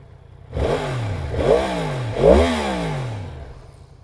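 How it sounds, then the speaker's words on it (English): A 2023 Yamaha MT-10 SP motorcycle engine is revved hard three times in a row, each blip rising and falling in pitch, loud and close, with no talking. "it is a disservice to the motorcycle to not turn it on and rev it"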